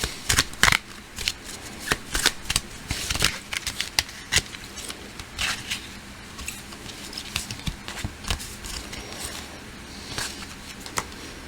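A deck of handmade cards being shuffled close up, with rapid riffling bursts and soft slaps that come irregularly and loudest at the start, then settle into lighter shuffling.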